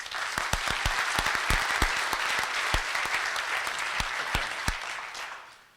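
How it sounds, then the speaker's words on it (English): A crowd applauds steadily for several seconds, sharp individual claps standing out before the clapping fades away at the end. "Please give them a round of applause."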